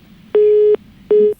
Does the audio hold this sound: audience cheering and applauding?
no